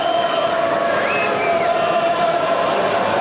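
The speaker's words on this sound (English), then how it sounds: "The constant hubbub in the crowd, it really has been the most wonderful atmosphere" A crowd of about two thousand at a 1995 Rugby World Cup pool match between Ivory Coast and Scotland keeps up a constant, loud hubbub, with a thin whistle-like tone drifting above the din.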